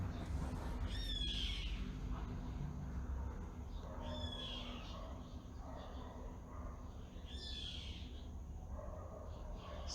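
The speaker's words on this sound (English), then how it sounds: "Just listen to the birds." Birds chirp and call outdoors in short bursts at a moderate distance, scattered across the stretch over a steady low background rumble.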